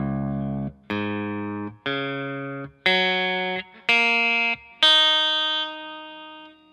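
Six electric guitar strings in drop D tuning, with the low E tuned down a whole step, are plucked one at a time from lowest to highest. Each note rings clearly for under a second, played alone.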